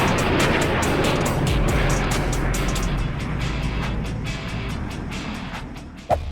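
A steady low roar of an airplane engine drones throughout, gradually easing off, with a brief bump near the end.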